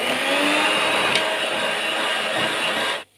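An electric mixer beats orange cake batter as oil is drizzled in, producing a steady close whirring hum that runs evenly, then cuts off abruptly at the end.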